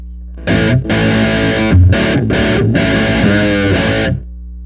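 Peavey Audition 20 guitar amp cranked with all its switches pulled, an electric guitar ringing out loud, heavily distorted chords in a few strong strums that sustain and then cut off.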